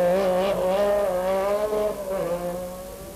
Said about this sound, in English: Tom Spence is motoring his Metro in fine style.